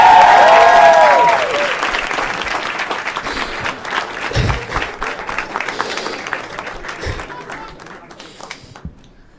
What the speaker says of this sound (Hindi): एक बार जोर तालियां भाई के लिए यार.